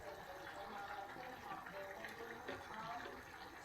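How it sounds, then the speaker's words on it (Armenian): White wine poured from a glass over a nearly finished home-cooked Armenian meat dish, a steady close liquid gush and trickle lasting the whole moment with no talk. "վրեն վերջում մի բաժակ գինի եմ լցում սպիտակ"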